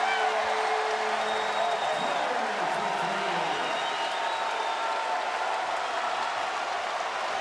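Crowd at a men's college basketball game, UW vs LMU, cheers and applauds a three-point shot, a loud sustained roar with whoops that fills the whole stretch and stays steady to the end, with a faint voice underneath.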